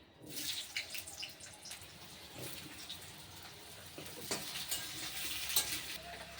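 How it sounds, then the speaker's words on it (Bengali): Potatoes frying in hot oil while being stirred in a home kitchen pan, a steady close sizzle with scraping stir strokes and occasional louder crackles, no talk. "আলুটা ভেজে নিই আগে"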